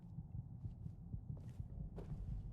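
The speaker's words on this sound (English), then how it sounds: "get used to hearing the heartbeat" Low-health heartbeat in Fallout 4, a quiet, muffled, steadily repeating low thump pulsing throughout under a faint hum.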